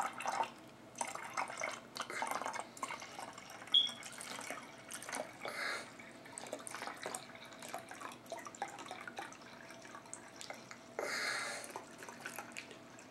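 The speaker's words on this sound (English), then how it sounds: "But I am pouring it past the shoulder." Liquid is poured into a bottle, giving quiet, intermittent trickling and splashing bursts with a few drip-like sounds in between.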